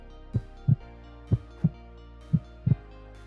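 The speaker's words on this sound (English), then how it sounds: "my heart beat that fast" A heartbeat sound effect thumps in three paired lub-dub beats, low and deep, evenly spaced about a second apart over a quiet low hum, with no speech.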